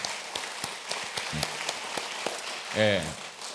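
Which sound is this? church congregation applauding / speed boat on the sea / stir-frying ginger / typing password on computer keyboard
church congregation applauding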